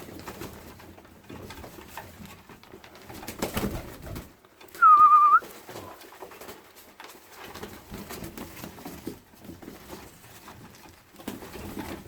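Young pigeons cooing and shuffling nearby, with a brief clear whistle-like call in the middle and soft rustling and pattering around it.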